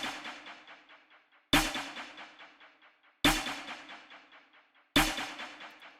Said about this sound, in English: So to begin, I put down this snare, just playing the basic clap pattern.